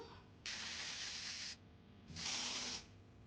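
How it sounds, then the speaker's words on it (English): Two bursts of hissing spray from a spray bottle onto a curly lace wig, the first about a second long and the second a bit shorter and louder, with quiet in between. "Now we got a spray."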